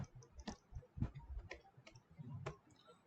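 Keyboard typing at a computer terminal, a few sharp, separate key clicks with uneven gaps over a faint background, fairly quiet and close.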